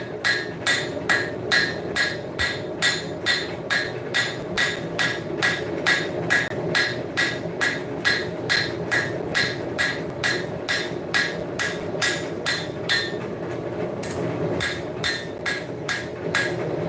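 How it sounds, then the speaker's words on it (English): A power hammer pounds hot steel from a .50 cal machine gun barrel in a forge shop, striking in a fast, steady rhythm of loud, evenly spaced blows that run almost continuously with no talking. "let's start forging this one out some more"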